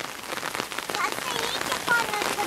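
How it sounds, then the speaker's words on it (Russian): Steady rain patters on a surface outside a rural farmstead, a soft dense hiss of drops close by that never lets up. "а потом дождь перестанет."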